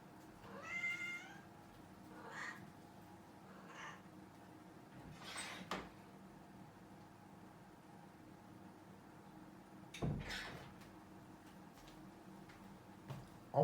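A pet cat meows a few times near a door, wanting to go outside: an opening drawn-out meow followed by softer, shorter calls, with quiet clicks and a louder bump later in a calm room.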